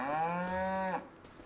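A cow in a video game moos once in a single drawn-out, loud call that stops abruptly, followed by a brief quiet tail.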